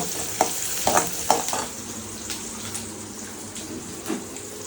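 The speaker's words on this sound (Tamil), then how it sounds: "வதக்கல் நடக்குகிறது" Food sautéing in a home kitchen pan, with a steady loud sizzle and repeated scraping stirs of a spoon, close up and with no talking.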